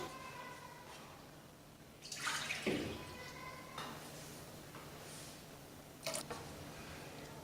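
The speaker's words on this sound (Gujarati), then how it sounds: "હવે આની અંદર આપણે પાણી એડ કરીશું તો આપણે ટોટલ છ કપ પાણી નાખીશું" Water pours into a pot of seven-grain khichdo in a few quiet splashing bursts, close but faint, with gaps between pours.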